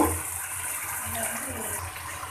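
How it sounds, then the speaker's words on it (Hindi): A small splash of water is poured into sizzling mutton liver masala in a pan, a brief close hiss and gush of liquid over steady cooking noise. "थोड़ा सा पानी शामिल करेंगे इसमें, थोड़ा सा बस,"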